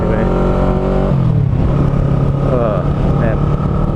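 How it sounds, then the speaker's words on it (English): A 2009 Kawasaki Ninja 650R fitted with a Yoshimura TRC exhaust runs close by with a steady, droning engine note. The revs drop about a second in, then the engine settles into a continuous, even rumble. "Oh man, I'm just loving this exhaust. It sounds fantastic. So much better than the stock."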